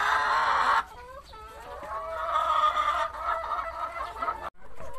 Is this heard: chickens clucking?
yes